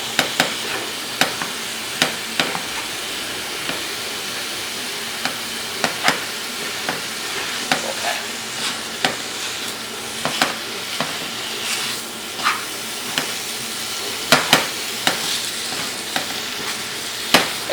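Sausage fries and is stirred in a pan, giving a steady sizzle with regular scraping clicks from the utensil at close range and no talking.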